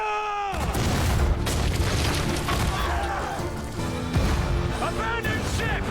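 Ship cannons firing in the pirate drama Black Sails: a deep boom opens the clip and heavy blasts roll on with crashing debris, shouting voices mixed in, and a second boom lands near the end.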